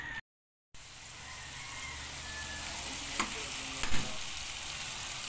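Tinola fish soup heats in a pot, giving a steady, moderately loud hiss of simmering and bubbling, with a couple of brief clinks partway through.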